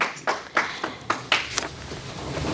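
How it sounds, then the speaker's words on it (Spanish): A church congregation claps, sharp claps landing in a loose rhythm about every quarter second and softening toward the end, fairly close. "Un aplauso al Señor."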